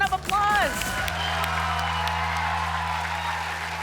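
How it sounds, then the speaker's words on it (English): Audience applause for schools ranked at a national STEM championship finale, a steady broad wash of clapping filling the hall after a brief burst of voices at the start. "Please give them a round of applause."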